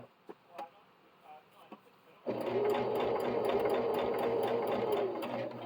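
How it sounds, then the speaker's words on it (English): A sewing machine stitches fabric onto rope while making a rope bowl. A few faint ticks and handling sounds come first, then the motor kicks in loudly with a fast, steady whirring stitch rhythm to the end. "So I'm going to sew over that for just a moment."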